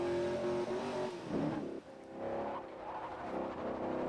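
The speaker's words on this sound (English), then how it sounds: "Listen to that engine. It does sound nice when it's not popping and cutting out" A car engine in the Forza Horizon racing game revs and shifts steadily, a loud, smooth tonal drone rising and dropping through gear changes, with no talk over it.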